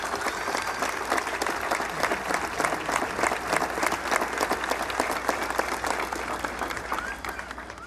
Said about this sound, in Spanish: Y hacemos un aplauso a todos estos nuevos esposos.